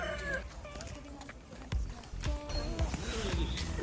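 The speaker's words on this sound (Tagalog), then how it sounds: "Sumagot ang manok." A rooster crows in short, strained calls at moderate distance, rising over a busy outdoor background with faint voices and footsteps.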